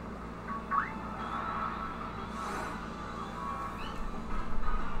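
A cat Pokémon in Pokémon Shield gives a short electronic meowing cry, followed by softer chirpy game sounds over a steady background hum.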